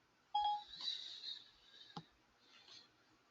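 A short electronic phone notification: a brief tone followed by a faint chiming shimmer and a small click, quiet and close, heard alone without speech.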